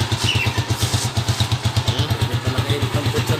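A motorcycle engine idles nearby with a steady, rhythmic putter, its low thumping pulses repeating evenly throughout.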